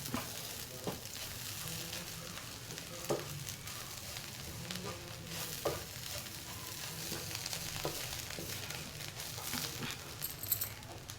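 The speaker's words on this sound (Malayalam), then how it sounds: "ഇനി നമുക്ക് നന്നായിട്ട് ഇളക്കി ജോയിൻ ചെയ്യും." Cabbage thoran fries in a pan with a continuous sizzle while a spoon stirs it, making periodic scraping clinks, all close up and without speech.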